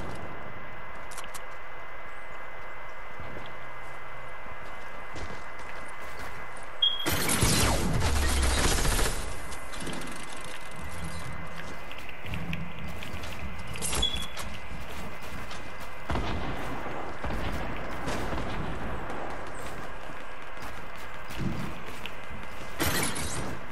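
Bursts of gunfire in the Fortnite video game, with clusters of sharp rapid shots and a loud blast near the middle, set over a steady game background hum, with no talk.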